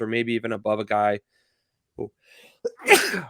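Someone talks, then falls briefly silent, followed by a short sharp catch of breath and one loud, close sneeze that bursts out at the end.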